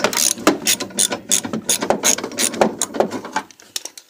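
Rapid ratcheting clicks from a socket wrench loosening bolts on a window, a dense burst of sharp mechanical ticks that keeps going for a few seconds before trailing off.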